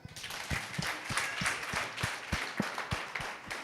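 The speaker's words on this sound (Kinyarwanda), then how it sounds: "mubanze muhereze iyi timu yaje kubana namwe amashyi" Children at a charity gathering applaud a visiting team with moderately faint, evenly spaced claps that blend into a soft, continuous patter of hands.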